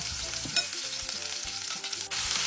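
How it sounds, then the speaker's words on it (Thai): Pounded curry paste hits hot oil in a pot for a chicken and potato curry, sizzling and crackling steadily and close up, with brief stirring scrapes partway through. "พอน้ำมันเริ่มร้อนเราใส่เครื่องที่เราโขกไว้ค่ะ"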